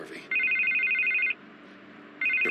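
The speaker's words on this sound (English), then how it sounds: "I can't get the phone to stop ringing." Telephone in a Batman video game rings in two clear bursts, a long electronic trill followed by a pause and a second ring starting, loud and close over a faint room hum.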